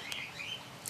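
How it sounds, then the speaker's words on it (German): Canaries in a home aviary give a few thin, high chirps and a short trill, soft and slightly distant over faint background hiss, with no talking. "Wir haben Vogelvaliere mit Kanarienvögeln."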